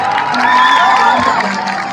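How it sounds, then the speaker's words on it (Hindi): A large crowd at a lively stage show in Buxar cheers and claps, a loud dense wash of whoops and applause sustained throughout. "एक बार हम लोग एक जोरदार ताली आपसे बजाते हैं"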